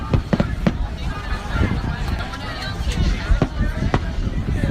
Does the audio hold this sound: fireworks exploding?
yes